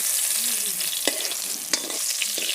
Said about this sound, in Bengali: চাল কুমড়াটা হালকা করে ভেজে নিচ্ছি